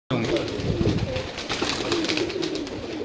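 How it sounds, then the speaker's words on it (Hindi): Migratory pigeons readied for the Jeth and Harh season crowd a rooftop in Kasur, their soft cooing and fluttering mixed into a busy, constant background while someone talks nearby. "ये जी तमाम कबूतर हैं जो कि सीज़न जेठ और हाड़ के लिए तैयार किए गए हैं।"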